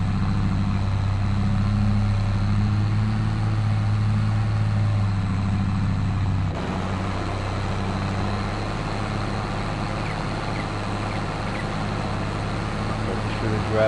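Tractor engine in Farming Simulator 22 working a silage pit, a steady low droning rumble that holds constant, shifting slightly in tone partway through.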